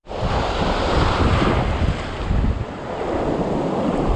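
Wind blows hard across open water on the Gold Coast fishing flats, with lapping surf mixed in. The roar is steady, close and loud for the whole stretch, with no voices.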